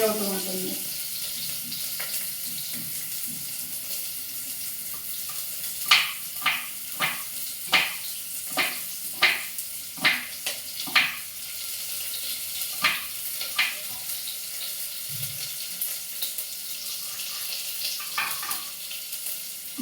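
Onions sizzle and fry in a hot pan for vegetable sambar, a steady crackling hiss with scattered sharp pops and clinks of stirring, at moderate volume with no talk.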